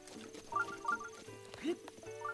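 A horse in The Legend of Zelda: Breath of the Wild gives short whinnies and snorts over light hoof clip-clops, heard close and moderately loud against a quiet game background.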